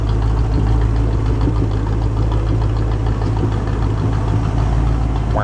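A 1967 Ford Mustang engine runs steadily while in gear, with a dense low rumble and a faintly uneven, slightly stuttering idle that stays close and loud throughout.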